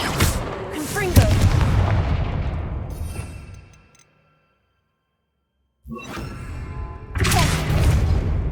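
The Confringo blasting spell in Hogwarts Legacy sets off heavy booming explosions: a long roaring blast that fades out, a short silence, then two more sharp bursts of rumbling detonation.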